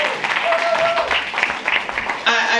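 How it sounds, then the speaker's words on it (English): A seminar audience at a UK Paycation Super Saturday event breaks into a round of applause for single parents, steady clapping carrying on with a voice over it. "Single parents, give yourselves a round of applause"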